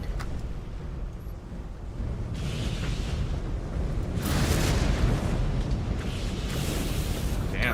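A destroyed enemy mech topples in the MechWarrior game The Clans, its collapse a long, loud, rumbling roar that swells into sustained crashing noise and keeps booming for several seconds.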